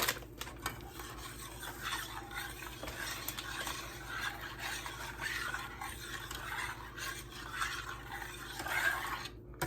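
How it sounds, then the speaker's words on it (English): Spoon stirring banana pudding custard mixture with milk in a pot, continuous scraping and swishing strokes at close range, steady and fairly quiet with no voices. "And you keep stirring it."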